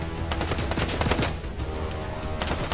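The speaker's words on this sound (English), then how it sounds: "Every one of those 3 shots hit." Shotgun fire in the video game Fortnite, with a dense run of loud, sharp blasts and clatter early on and another burst near the end, busy game noise throughout and no talking.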